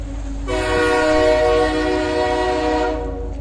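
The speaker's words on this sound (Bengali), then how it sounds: "মনে হচ্ছিল দূরে কোথাও থেকে একটা ট্রেন এগিয়ে আসছে। শোনা গেল ট্রেনের হর্ন।" A train approaching on a railway line sounds a long, loud horn blast that holds steady for a couple of seconds before cutting off, over a low background rumble of the rails.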